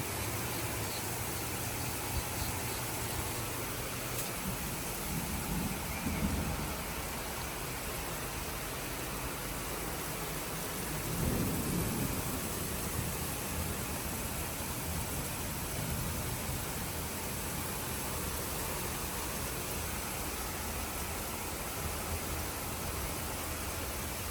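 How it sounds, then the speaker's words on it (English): Rain falling outside, a steady broadband hiss that runs unbroken throughout, with a couple of faint low rumbles passing underneath. "I gotta see if it's gonna stop raining."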